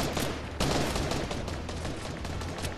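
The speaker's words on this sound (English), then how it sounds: "Is that them shooting?" Video game gunfire crackles in dense, sustained bursts with a sharper volley partway through, loud and continuous with no talk over it.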